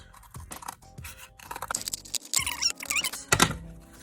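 Scissors trim a handmade 3D cross craft piece with a run of crisp snipping and scraping cuts. The cuts start sparse, then come quicker and louder, with a final firm snip.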